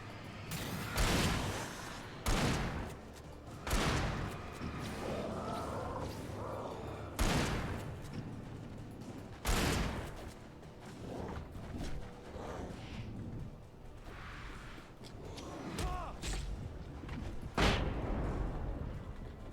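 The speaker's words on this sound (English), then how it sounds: "That was a valid flashbang." Flashbang and gunfire bursts in the video game Alan Wake, several loud sharp blasts spread across the stretch with noisy rumbling and game sounds between them.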